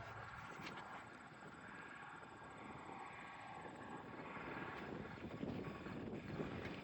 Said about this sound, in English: let you see the tractor grunt a little bit. We got her grunting a little today